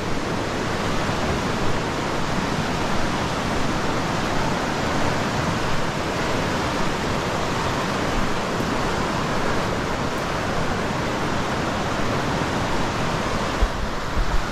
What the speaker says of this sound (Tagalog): So lakas ng baha.